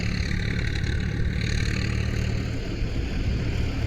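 A tractor engine runs in a field of burning crop stubble, a constant, dense low-pitched rumble that holds steady from start to finish, fairly loud with no voices.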